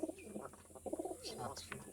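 A single male pigeon at a village pigeon sale coos up close, its soft throaty rolling calls repeating in quick pulses over a faint background hum.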